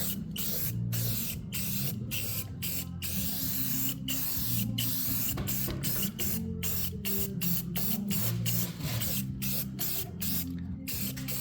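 Spray paint hisses onto a Ford F100 frame in short repeated bursts, each blast broken by quick pauses, loud and close over a low steady hum.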